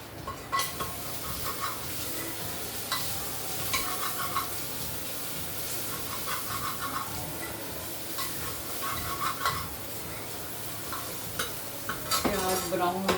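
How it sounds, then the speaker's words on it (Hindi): Onions, garlic, ginger and a green chili fry in a pan, giving a steady sizzle broken by repeated scraping and clinking as a utensil stirs them against the metal, fairly close and with no talk. "प्याज ब्राउन होते हैं।"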